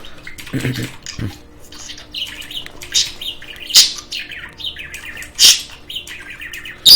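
Bird shrieks and sharp chirps in the video game Skyrim repeat in several loud, piercing bursts over a busy in-game background.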